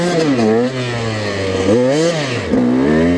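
Dirt bike engine revving repeatedly while spinning donuts on a flooded road, a loud close buzzing roar that rises and falls in pitch with brief dips between throttle bursts.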